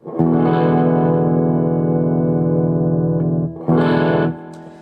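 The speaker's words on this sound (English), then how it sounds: "a progression of dominant chords, usually dominant sevenths, which are these" Two sustained dominant seventh chords strummed on an electric guitar with effects, the first ringing for over three seconds, the second shorter, fading at the end.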